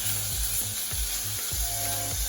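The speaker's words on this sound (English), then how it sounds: "We just want to cook it nice and crispy like making regular bacon and set it to the side." Bacon frying crisp in a pot of hot grease for a pasta carbonara, a continuous close sizzle with regular scraping knocks as it is stirred.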